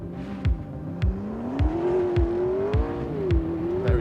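A McLaren P1 in automatic gearbox mode accelerates on a wet surface with wheelspin, its engine note climbing and wavering while sharp, regular gearshift-like thumps punctuate the loud, close rising whine.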